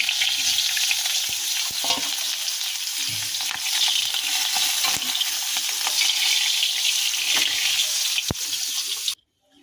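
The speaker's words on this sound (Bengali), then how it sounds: "ভাজা হয়ে গেছে এবার আমরা মাথাগুলোকে তুলে নেব" Fish heads fry in hot oil with a loud, continuous crackling sizzle broken by scattered spatula clicks and stirring, then it stops abruptly just before the end.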